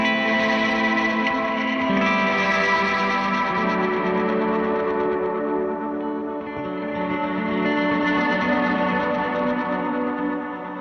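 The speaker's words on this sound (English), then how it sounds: "Ghost Trem uses Riz Haze, but throws on a tremolo that kind of is just after the reverb, so it catches it and it does this really awesome wide panning." Mercury X pedal's Ghost Trem preset, a Riz Haze reverb followed by tremolo, spreads a dense, washy wall of sustained tones with wide panning and a gentle pulsing swell, loud and continuous with no voices.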